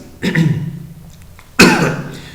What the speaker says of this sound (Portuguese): Estou tossindo aqui, mas não estou gripado não.